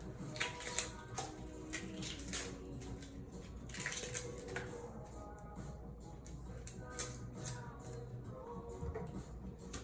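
A good kitchen knife chops vegetables on a wooden block, giving a run of crisp, repeated taps and slices that come close and steady over faint background noise.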